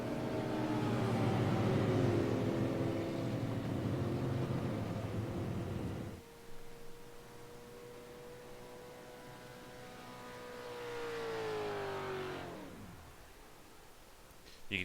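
Race car in a stock-car racing video game at Michigan, engine droning loudly and steadily, then dropping to a lower hum as the driver lifts off the throttle to save fuel, with a brief swell before the tone sweeps down near the end.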